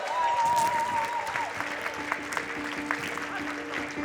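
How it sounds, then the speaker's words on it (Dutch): Audience applause rolls through a hall in Prinsetún after the Liet 2013 song prize is awarded, steady dense clapping beneath a fading held tone and a faint voice. "En een donderend applaus"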